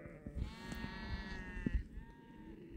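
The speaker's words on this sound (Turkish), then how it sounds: "Koyunları şöyle bir toplayalım." Sheep bleat in long, wavering calls on a highland pasture, several overlapping, against a low outdoor rumble and occasional thumps.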